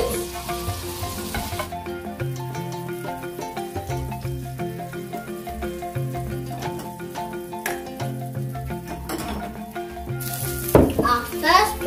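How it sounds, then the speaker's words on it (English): Steady crackling sizzle of pancake batter frying in butter in a pan, close by, with a voice and other chatter over it. "It's sizzling."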